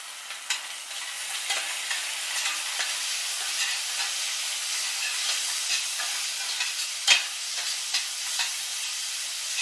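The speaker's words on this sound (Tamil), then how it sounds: "இப்போ நல்லா வதங்கிருச்சு." Chilli paste, ketchup and salt sauté in a pan for honey chilli potatoes, giving a steady close sizzle with light scraping stirs throughout and no talking.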